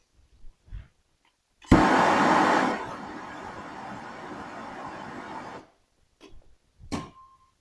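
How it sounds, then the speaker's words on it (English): A wire brush scrubs lead off the edge of a steel body panel on a 1948 Willys pickup, a rough continuous whirring grind lasting about four seconds, loudest at the start, with a few faint knocks before and after. "I don't know if this wire brush is going to be aggressive enough, but we'll try it"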